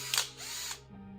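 A drill spins a wire brush against pump surfaces to clean off old gasket material, giving a brief whirring burst with a scratchy high-pitched edge that winds down after about a second.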